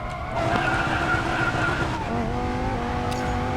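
A race car corners hard in the Racing Master video game, its loud engine drone carrying continuous tire squeal and skidding that shifts pitch midway, with no voices over it.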